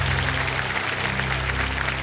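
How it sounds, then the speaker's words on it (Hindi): A studio audience on the quiz show Kaun Banega Crorepati claps loudly in a steady, dense roar of applause that holds throughout, over a low musical hum. "जोरदार तालियां बज जाए इधर से भी,"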